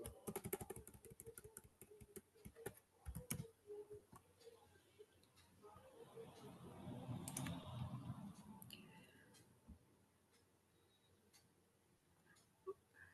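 Quiet, rapid clicks of typing on a computer keyboard, dense at first and then sparse, with a faint murmur of voice in the middle.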